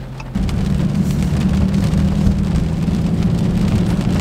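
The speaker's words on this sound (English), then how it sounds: "as this rain is still coming down." Steady heavy rain drumming on a car driving on a highway, a constant dense hiss with a low rumble of the car underneath, swelling up just after the start.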